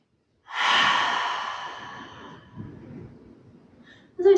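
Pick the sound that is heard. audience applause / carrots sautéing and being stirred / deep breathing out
deep breathing out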